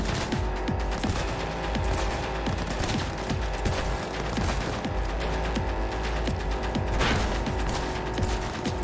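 Gunfire in Cyberpunk 2077, dense rapid bursts with mechanical clatter running almost continuously, loud and close, no talking.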